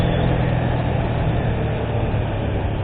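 A Karizma XMR 210 motorcycle engine runs steadily nearby, its low exhaust drone continuous and even throughout.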